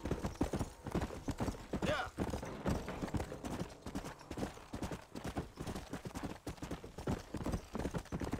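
A horse's hooves clip-clop in a steady, continuous rhythm while it is ridden in the video game Red Dead Redemption. The hoofbeats are fairly close and moderately loud, and no talk is heard over them.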